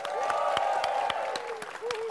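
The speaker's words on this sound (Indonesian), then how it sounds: "Ada Danet Gustama, tepuk tangan dong." A studio audience at a television show applauds in bursts of crisp, scattered clapping, fairly close and moderately loud, with crowd murmur beneath.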